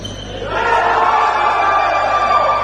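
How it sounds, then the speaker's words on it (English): Spectators at a men's third-place touch rugby match between Great Britain A and Germany cheer a good defence. Their roar rises sharply after a quieter start and stays loud and sustained. A commentator's voice sits faintly beneath the crowd. "And the cheer because that is well defended."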